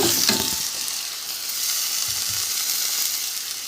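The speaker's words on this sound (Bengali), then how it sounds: "রসুনটা 1 মিনিট মতন ভেজে নেব।" Garlic sizzles in hot oil with toasted panch phoron spices in a pan for a Bengali fish-head chorchori, a steady close hiss with occasional stirring scrapes and no talking.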